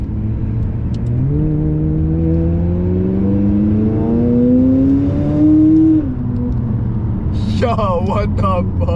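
A McLaren sports car engine revs up to 8500 RPM, its pitch climbing steadily in one long pull before dropping off, loud and close, followed by excited voices near the end.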